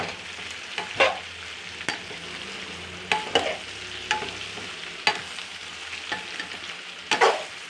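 Bitter gourd frying in a pan, with a soft, steady sizzle and irregular sharp scrapes and knocks as it is stirred, heard up close and free of talk.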